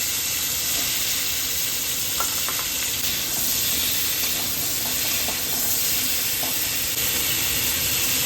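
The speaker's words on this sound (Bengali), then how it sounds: "ফুলকপি আলুগুলো এক এক করে ভেজে নিচ্ছি সবগুলো" Cauliflower and potato pieces fry in hot oil in a wok, making a continuous loud sizzle and hiss with occasional light utensil clicks and stirring, no voices.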